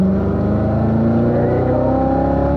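Corvette on a race track at full throttle, a loud, close engine roar with steadily rising pitch as it accelerates, alone without talk.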